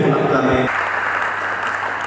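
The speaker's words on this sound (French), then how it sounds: "Est-ce que nous pouvons l'acclamer?" A congregation at a memorial service breaks into applause acclaiming Jesus Christ, steady clapping that continues after a voice cuts off early, filling the space with a broad dense patter.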